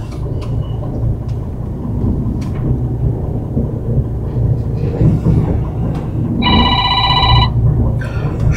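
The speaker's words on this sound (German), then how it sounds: "Schon ruft die Chefin an." A telephone rings once with a bright electronic trill against steady machine rumble at a site where an excavator has two faulty valves, a short burst standing out over the background noise.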